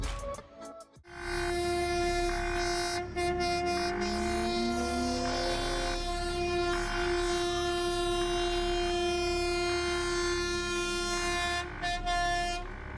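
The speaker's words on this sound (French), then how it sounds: "ce train traverse cette route comme s'il s'agissait là d'une opération banale" A freight train rolls across a road, its horn blaring in long, loud sustained blasts over a steady rumble of the train passing close by, with no speech.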